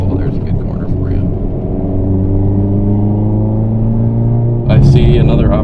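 Turbocharged Hyundai Veloster N with a stuffed turbo pulling hard in second gear, a loud, steady engine drone with rising harmonics throughout, then a sharp burst of turbo or exhaust noise near the end.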